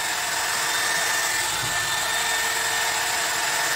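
An alpina Rotocurler hair styler with a rotating brush gives off a steady, loud, close whirring hum with fan noise, heard alone without any talk.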